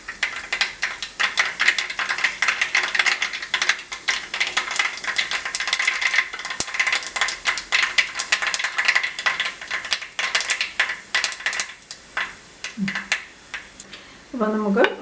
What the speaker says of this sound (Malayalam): കടുവെല്ലാം പൊട്ടിക്കൊണ്ടിരിക്കുകയാണ്.